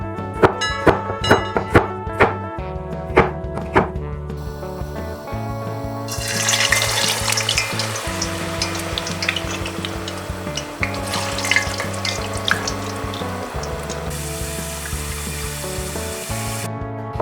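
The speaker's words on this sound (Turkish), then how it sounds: "Patates miktarını ve şeklini tercihinize göre belirleyip kızartabilirsiniz." Steady crackling sizzle of potatoes frying in hot oil, loudest in the middle stretch, with soft background music running underneath throughout.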